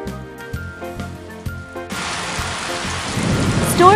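Music gives way to a sudden steady downpour of rain with a low rumble of thunder building toward the end.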